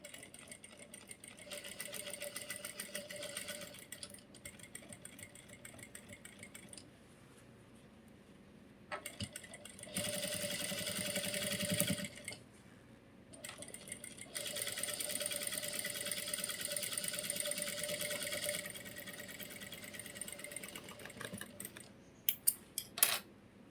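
A sewing machine stitches a pocket onto a pair of pants in bursts of rapid, buzzing running, several seconds each, separated by quiet pauses, with soft clicks and handling noises between them.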